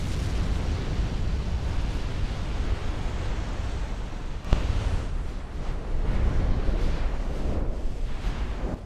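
A battleship exploding and burning in the naval video game Ultimate Admiral Dreadnoughts: a loud, continuous roaring rumble with a sharp blast near the middle, dense low-end noise like surging surf throughout.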